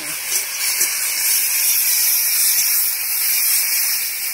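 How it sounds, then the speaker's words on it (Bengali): Spices hit fried tomato and onion in a pan over a wood-fired clay stove, giving a loud, steady, hissing sizzle that holds without a break. "টমেটো পেঁয়াজ ভাজা হয়ে গেল, এবার আমি মশলাটা দিচ্ছি"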